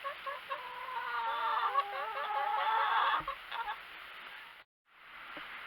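Hens in a chicken pen during molting cluck and chatter continuously at close range, several birds overlapping in busy rising and falling calls, broken by a brief silence near the end before the clucking resumes.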